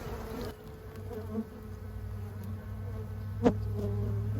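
Dense, continuous buzzing of a honey bee swarm close by, with a few sharp knocks breaking through the steady drone.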